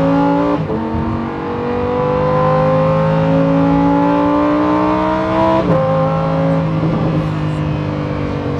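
A Lamborghini Huracán STO's naturally aspirated engine revs loudly up through the gears, the tone climbing, dropping at each shift, then climbing again, close and continuous.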